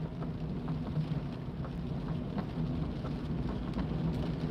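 Heavy rain drums steadily on a car during a night drive in the UK, a dense continuous hiss with low road rumble underneath and no voices.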